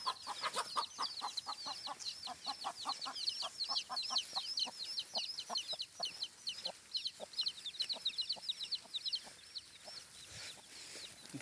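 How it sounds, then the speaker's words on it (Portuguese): A hen clucks steadily while her chicks give rapid high peeps all around her. The sound is faint and continuous, with no talking. "A galinha com os pintinhos."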